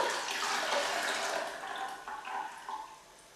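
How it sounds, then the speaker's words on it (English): Cooled green tea pours through a sieve into a pot, a steady close splashing trickle that thins and fades toward the end, with no talking. "I'm just going to sieve it all the way through here"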